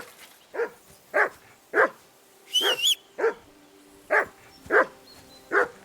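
A hound in Kingdom Come Deliverance II barks insistently, about nine sharp, evenly spaced barks close by, with a brief higher whine or voice cutting in midway.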